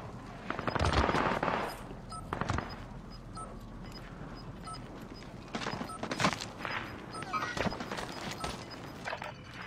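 Gunfire in Call of Duty: Warzone comes as bursts of rapid shots and scattered single cracks, loud near the start and again later, over background game noise.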